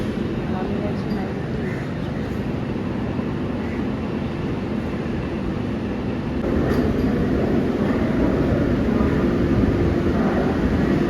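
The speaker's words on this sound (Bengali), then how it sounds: "দেখি কি ট্রেন ঢুকছে।" A train pulls into a railway station platform with a continuous low rumble and rolling noise that swells slightly louder partway through. Faint background station sounds accompany it.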